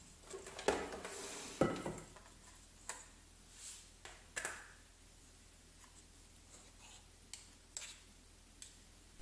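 A mixing bowl and dough hook being removed from a kneading machine, heard as a few close clanks and knocks early on, then sparse light ticks and taps in a quiet room.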